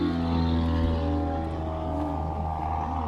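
A propeller airplane drones steadily from the airfield, a continuous throbbing engine hum with strong low harmonics. The sound is heard from close range with no speech.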